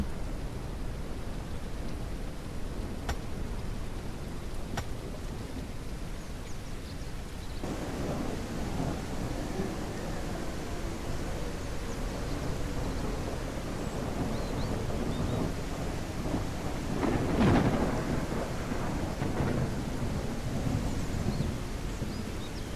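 Steady rain with rolling thunder in the survival video game Mist Survival under an overcast sky, a continuous broadband wash with a louder rumble swelling near the end.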